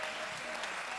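Steady applause from a church congregation during a Sunday service, thanking the organizer of a kids' choir; an even, dense wash of clapping that fills the whole moment at a moderate level, with no clear gaps.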